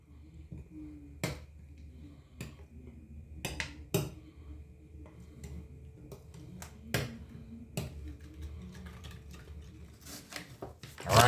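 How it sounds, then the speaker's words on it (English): Garlic powder is stirred into tomato sauce for homemade pizza, heard as a run of sharp utensil clinks and taps against a bowl at an uneven pace, fairly close, over a low background hum. "let's just mix this and combine it well into our tomato sauce"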